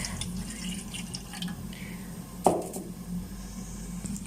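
A cup of milk is poured for tea, giving a soft, faint, steady liquid trickle with one brief louder splash midway, alone with no talk.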